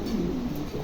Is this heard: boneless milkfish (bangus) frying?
no